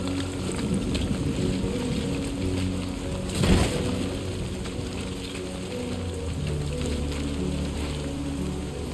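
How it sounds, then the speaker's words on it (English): Steady rain hisses over a low mechanical hum in the video game Death Stranding 2, under clear skies, with a brief louder rattle near the middle; the wash of noise continues evenly throughout. "It's clear skies, but it's raining"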